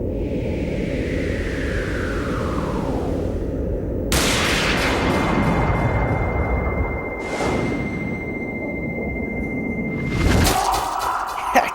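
Gunshots ring out in the Resident Evil Dead Aim survival-horror game on PS2, a few sharp blasts with long ringing tails over a steady low rumble of game ambience, loud and with no voices.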